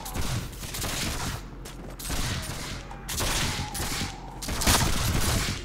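Volleys of musket fire crack in the Mount and Blade battle game, repeated loud booming gunshots in rolling bursts, dense and close, with no talking.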